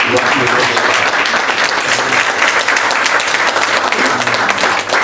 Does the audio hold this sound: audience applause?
yes